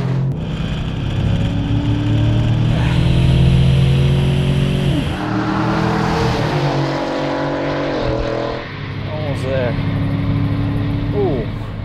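A tuned, lifted Chevrolet Silverado in four-wheel high launches down a drag strip, its engine roaring loud and rising through gear shifts, with people talking over it.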